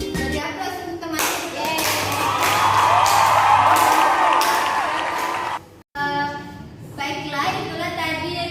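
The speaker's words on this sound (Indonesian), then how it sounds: "Jadi aplaus untuk teman" Classmates applaud after a group presentation in a classroom, a burst of dense clapping with a few cheers that swells for several seconds, cuts out abruptly, then trails off into scattered claps and murmuring voices.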